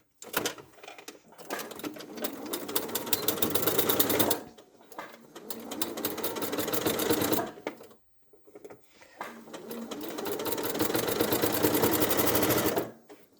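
A sewing machine stitches around the curved foot of a teddy bear in three loud, close bursts separated by short pauses, its needle chattering rapidly and steadily.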